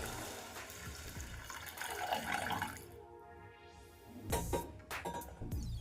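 Water pours into a pot of soaked basmati rice, a soft splashing fill that swells and fades with a few clinks, alone and fairly close.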